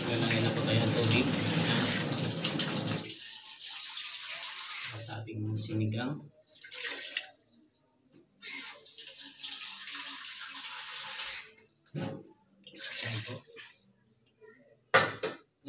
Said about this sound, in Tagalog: Lalagyan na po tayo ng tubig.